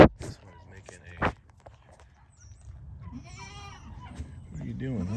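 A goat kid bleats in a wavering, nasal cry, twice near the end after quiet footsteps and soft rustling.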